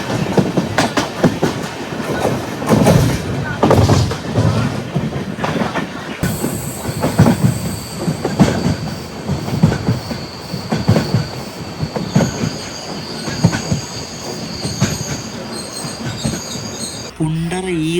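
LHB Guruvayur–Madurai Express heard from inside a sleeper coach: a loud, steady rumble of wheels on rails with clickety-clack beats and squealing wheels, and a thin high tone joining partway through.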